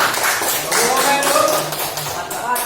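Classroom applause, a brisk burst of many hands clapping close by with a teacher's voice speaking over it throughout.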